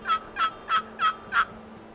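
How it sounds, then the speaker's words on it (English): Five evenly spaced turkey yelps worked on a wooden box call, clear and close, each a short raspy note in a steady rhythm with quiet gaps between and a faint low hum underneath. "Yelps sound like this on a box call,"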